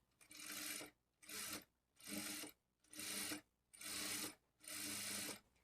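A sewing machine stitching a blouse seam runs in six even bursts of about half a second each, separated by short pauses, with a steady mechanical whir in every burst.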